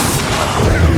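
Bombarda and Confringo spell explosions in the Hogwarts Legacy video game, a loud booming blast with rolling low rumble filling the short moment.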